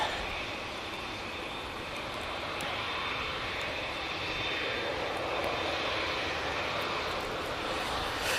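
A jet airliner departs Manchester Airport, its sustained engine roar swelling slightly partway through and staying steady to the end, heard alone without talk.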